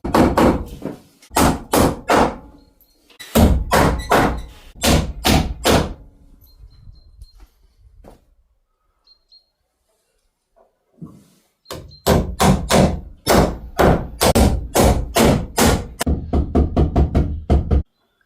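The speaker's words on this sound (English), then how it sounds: "Get some nails in this side, get the cladding back on" Hammer blows drive nails into timber cladding on a staircase: loud, close strikes come in quick rhythmic runs, with a quieter pause midway before another long burst of steady hammering.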